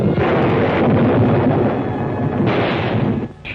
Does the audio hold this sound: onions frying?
no